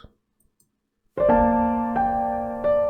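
Piano enters after a second of near silence with sustained chords, struck again twice, ringing fully and clearly up close.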